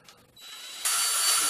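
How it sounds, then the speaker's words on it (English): A handheld electric drill bores through a piece of metal held down by hand, run at reduced speed with the trigger partly pressed; a steady close whine that steps up sharply in loudness and pitch partway through, with no voices. "Keeping the drill speed down by not pressing the trigger all the way."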